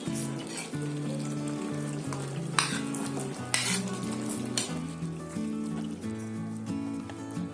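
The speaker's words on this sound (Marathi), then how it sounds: "आता मी याच्यामध्ये पनीर टाकते." Paneer stirred and fried in a pan gives a steady close sizzle, with a spoon or spatula scraping and clinking against the pan every so often.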